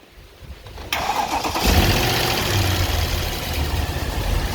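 A 2008 Mercedes S63 with 150k km cranks and fires after a second of quiet, then settles into a loud, steady rumbling idle close by, with no talking.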